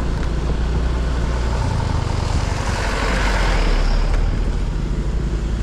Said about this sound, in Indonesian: Jadi banyak banget truk pasir yang ambil